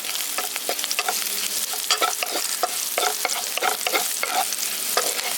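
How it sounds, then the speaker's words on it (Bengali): Chopped garlic and green chillies fry in hot oil in a pan, a steady close sizzle broken by frequent scraping stirs of a spoon, with no talking. "এবার রসুন আর লঙ্কাটাকে হালকা একটু ভেজে নিচ্ছি।"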